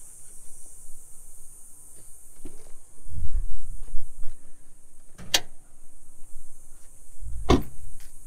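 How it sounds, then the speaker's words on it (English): The hood of a heavily modified Chevrolet Silverado truck popping open: two sharp metallic clicks and thumps a couple of seconds apart, close by, over a steady hiss and faint low rumble. "I'll pop the hood."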